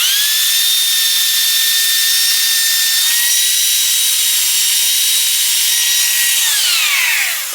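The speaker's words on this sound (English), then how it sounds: "I'll go to this heavy duty sanding disc" A heavy-duty sanding disc spins on a power tool against a part from a 1978 Kawasaki KZ1000 Z1R, a loud sustained high whine that holds steady before dropping in pitch as it winds down.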